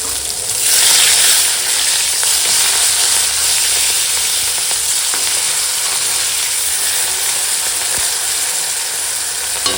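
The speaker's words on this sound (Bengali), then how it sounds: "তো এখন তেল গরম হয়ে গেছে দিয়ে মাছ ভেজে" Rohu fish fries in hot oil in a pan, giving a loud, steady, close hiss and crackle that holds throughout, with faint occasional clinks and no talking.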